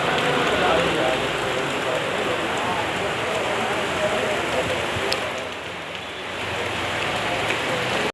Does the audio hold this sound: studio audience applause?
no